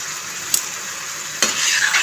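Pumpkin curry frying in a pan just after vinegar is added, a steady close sizzle with a couple of sharper bursts of stirring, no voices.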